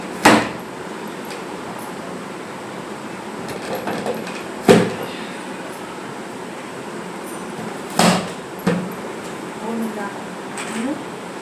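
Amla gooseberries being cut with a kitchen cutter, giving a few sharp, loud chopping clunks spaced several seconds apart against quiet room noise.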